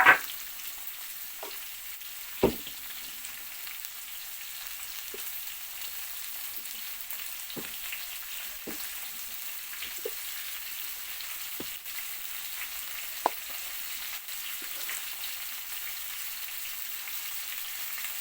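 Bitter gourd slices sizzle steadily in hot oil for a crispy kakarakaya fry, with a sharp clatter as they go into the pan and occasional spatula scrapes and taps over a continuous bubbling hiss.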